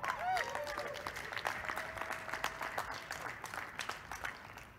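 Scattered audience applause at a keynote talk on open source maintainers, moderate and steady for a few seconds, with a tonal whistle-like sweep near the start and faint talk underneath.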